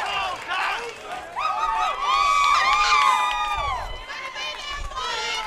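Crowd at a college baseball game between Alabama State and Florida A&M cheers and whoops loudly after a great throw, with shouting voices and a commentator speaking over the roar.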